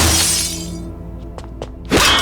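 Car window glass smashed in a confrontation over reckless driving: a loud crashing shatter at the start tails off into scattered tinkling fragments, then a second sharp burst of breaking glass near the end.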